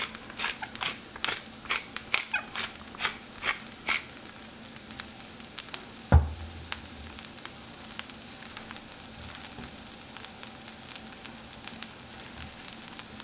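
Brussels sprouts in a pan over medium heat crackle and pop with a low, faint sizzle, scattered sharp clicks and ticks coming in irregular bursts, plus one louder thud midway.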